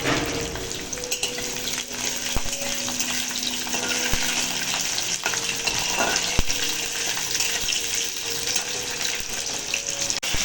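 Onion and garlic frying in a pan, a steady close sizzle and crackle with occasional clinks and scrapes of a utensil against the pan.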